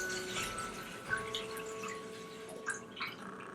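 Chilled sugar syrup is poured into a container while making Brazilian coconut lemonade. It makes a soft, steady liquid pour with a few small splashes and drips, close by and fairly quiet.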